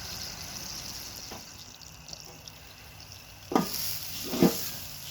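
Tomatoes and mushrooms sizzle quietly on an outdoor griddle at night, with soft scraping and two louder spatula scrapes near the end as they are turned.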